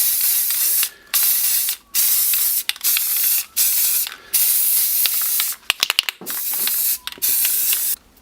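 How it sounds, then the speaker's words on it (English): A matte black spray paint can hisses in a series of short bursts, close and loud, separated by brief pauses with a few clicks and rattles, painting a model spider. "I'm going to spray another layer of matte black paint."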